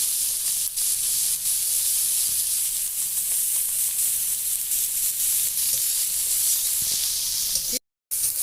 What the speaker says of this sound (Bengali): পেঁয়াজ, কাঁচা লঙ্কা, টমেটো, 5 ফোড়ন দিয়েছিলাম আমি ফোড়নের জন্য, বেশ ভাজা ভাজা হয়ে গেছে